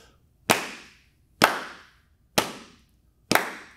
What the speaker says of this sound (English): You clap with me.